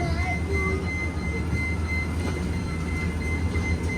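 A train rolls past on street-running track, a steady close rumble of wheels and cars with faint tonal squeals, continuous and loud throughout.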